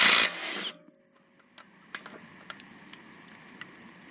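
Kobalt 24V cordless impact driver working on a car lug nut: a loud burst of rapid hammering for about half a second, followed by a few faint, sharp clicks and taps in a quiet space.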